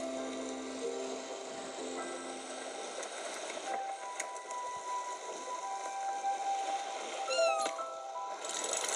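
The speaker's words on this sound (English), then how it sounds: "What are you doing, kitty cat?" A cat meows in the cozy game Spiritfarer, a few soft mewing calls laid over a light ambient backdrop with gentle tones and small clicks, and no voices.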